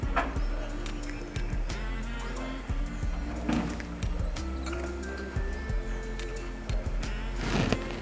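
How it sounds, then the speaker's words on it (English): Birds calling outdoors, soft repeated cooing and occasional chirps at a moderate distance over a low steady background hum. "I have a lot of birds chirping."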